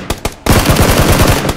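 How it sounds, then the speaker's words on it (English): Scar rifle fire in PUBG, loud and close: two single shots, then a rapid sustained automatic burst of many rounds in quick succession. "but I'm able to finish him with the Scar"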